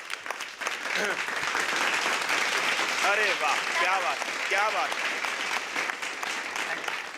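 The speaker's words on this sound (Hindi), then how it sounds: "एक बार जोरदार तालियां राजीव के लिए।" A studio audience at a Hindi comedy competition show gives Rajiv a loud, sustained round of applause, while a voice exclaims in praise over the clapping.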